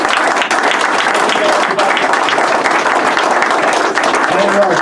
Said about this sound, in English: Let's give Bernie a round of applause